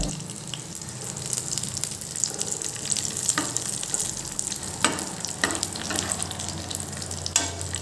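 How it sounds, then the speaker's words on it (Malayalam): Raisins fry in hot oil in a pan with a constant bright sizzle, broken by a few sharp scrapes and taps of a spoon moving them around; close and fairly loud, with no talking. "കിസ്മസ് ആണിത് ഒന്ന് ഫ്രൈ ചെയ്തെടുക്കാം"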